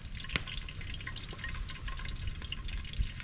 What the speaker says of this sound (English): It's kind of like deep frying them.